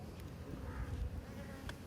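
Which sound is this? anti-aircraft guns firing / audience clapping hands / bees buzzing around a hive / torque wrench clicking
bees buzzing around a hive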